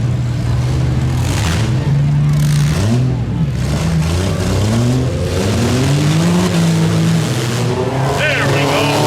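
A van in a junk-run demolition derby at Beeton revs hard and accelerates, its loud engine rising and falling in pitch over a steady roar, with voices talking over it.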